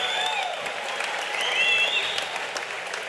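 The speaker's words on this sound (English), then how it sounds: "how about a round of applause for both these warriors" A crowd applauds after five hard rounds of a fight in Auburn, Maine: a steady, dense wash of clapping and cheering that holds at an even level throughout, with no clear voice over it.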